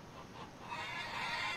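Chickens in a coop cluck in the Farmers Dynasty farming video game, a dense flock of about twenty birds chattering steadily and fairly loud throughout, with no talk over it.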